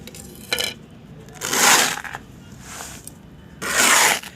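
Potting soil ingredients being mixed by hand in a garden pot, giving several separate gritty scraping and rustling bursts, each lasting about half a second, close and fairly loud, with no talking.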